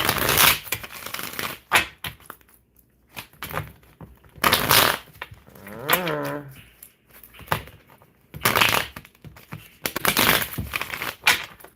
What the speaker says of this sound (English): One more shuffle, these feel heavy.